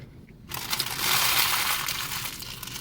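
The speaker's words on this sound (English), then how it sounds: "That was the crunchy taco, no lettuce." A loud, sustained crunching and crackling of biting into a Taco Bell crunchy taco without lettuce, close up, starting after a brief quiet moment and continuing steadily without any talk.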